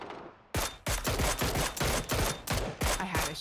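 Automatic gunfire in the shooter game PUBG, a rapid string of loud, sharp close-range bursts, about ten shots in quick succession with short gaps between them.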